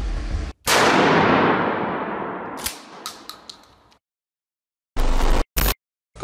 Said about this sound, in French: on a fixé le casque ici directement pour pouvoir effectuer des tirs dessus